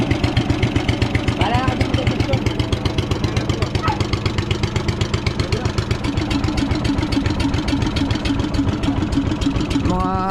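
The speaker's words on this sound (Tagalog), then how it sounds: "Ang ganda pa ng makina." An old engine with a pulley, apparently running on gasoline, chugs at a steady idle with a rapid regular thump, close and loud throughout, while people talk over it.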